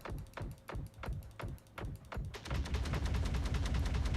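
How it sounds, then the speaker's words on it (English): Fireworks in the video game Star Citizen: a rhythmic string of loud popping bursts, roughly every half second, then a dense continuous crackling barrage as many go off at once. "Just going to watch APOC's fireworks."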